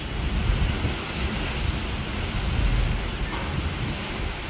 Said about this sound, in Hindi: ये देखो कितनी तेज हवा